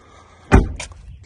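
The side door of a third-generation Honda Odyssey minivan, fitted with a new door checker, shuts once with a single loud, close, solid thud that fades quickly.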